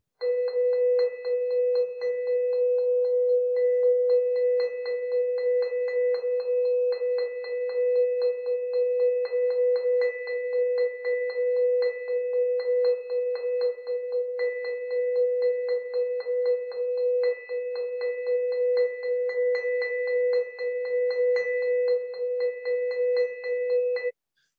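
A vibraphone struck repeatedly with a mallet rings out on a single sustained tone with rapid pulsing tremolo, the resonance fading and returning unevenly, played alone and fairly soft.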